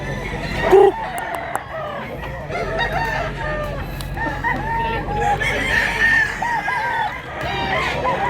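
A rooster crows repeatedly at close range among other chickens clucking at a rural market in Mantalungon, Cebu, with a voice nearby.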